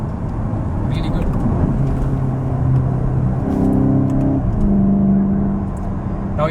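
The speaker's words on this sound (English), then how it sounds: "in sport mode, you do have this pumped in engine sound, and also the exhaust does get a bit more growly" Volkswagen Golf GTI hot hatch in sport mode, engine and growly exhaust rising in pitch as it accelerates through the gears, heard from inside the cabin with a steady drone under it.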